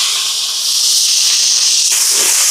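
Curry leaves, green chilli and onion sizzle in hot oil in a pan for a chicken dish, a loud, steady hiss that runs throughout and shifts slightly in texture near the end.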